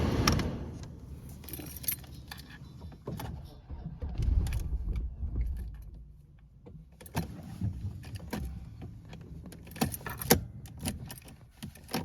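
Car keys jangle and clink inside a Mercedes 220CE W124 coupe, a series of close, irregular metallic rattles with a few louder jingles and handling bumps.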